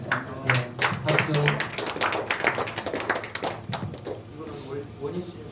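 A church congregation claps together in a quick, dense burst of many hands, moderately near, with voices speaking over and after it.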